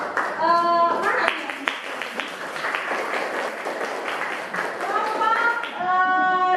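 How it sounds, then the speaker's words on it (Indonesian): Classroom applause for a student group, a dense patter of clapping from pupils lasting several seconds, with voices talking over it at the start and end. "kasih tepuk tangan untuk kelompok mana?"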